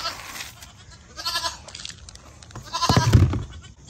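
Goats bleat in a short burst of rough, wavering calls, a few overlapping cries from close by with quiet gaps between them and no talk.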